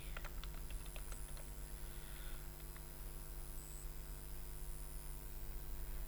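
Keystrokes on a computer keyboard while coding a PHP and jQuery web page: a quick scatter of light clicks in the first few seconds, then only a steady low room hum.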